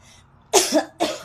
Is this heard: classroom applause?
no